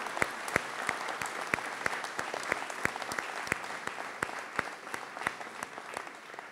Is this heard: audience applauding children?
yes